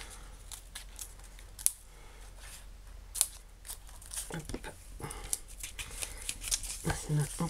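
Scissors snipping through a paper bag for junk-journal pages, giving sparse, quiet sharp cuts and crinkly paper handling up close, with occasional soft rustles between snips.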